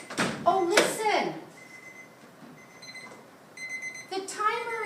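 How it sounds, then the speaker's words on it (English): A kitchen timer goes off with a few short, high electronic beeps in the middle of the clip, while a child and an adult talk at the start and end around a toy cash register game. "The timer is going off."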